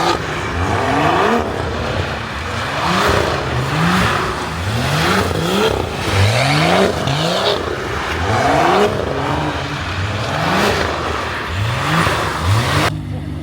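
A BMW M2 with a flame tune and downpipe revs hard at a street car meet, with repeated loud throttle blips rising and falling in a steady rhythm, up close and continuous.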